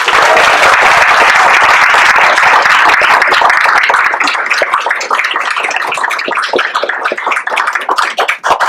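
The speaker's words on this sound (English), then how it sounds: "please give them a big round of applause" Loud, sustained applause from a large crowd at a panel talk on downtown Wake Forest history, dense clapping that thins slightly toward the end.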